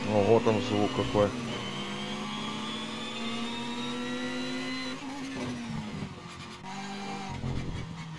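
A revving BMW engine in the racing game Need for Speed Shift 2 rises and holds a steady droning pitch, loud and close, then shifts and drops near the end.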